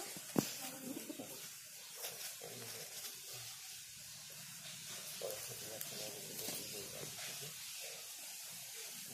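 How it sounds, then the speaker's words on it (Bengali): Pigeons coo softly and faintly while being fed by hand. Other birds are around, and a person talks over them throughout. "সব পায়রাই আমার হাতে খায়"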